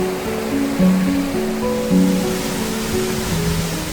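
The Caidero waterfall in the Azuaje ravine on a hike the day after rain produces a continuous rushing roar of falling water, steady and fairly strong, beneath faint tonal sounds.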